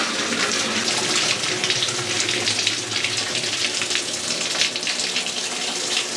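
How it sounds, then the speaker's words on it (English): Steady rush of cold water pouring into a washing machine drum, a continuous hiss and gush that stays even and fairly loud throughout. "it's running the cold water now"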